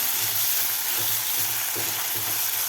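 Chopped tomatoes sautéing in a pan for a village-style spicy pigeon pea amti, a steady broadband sizzle with a faint low rhythmic bubbling, close and continuous with no talk.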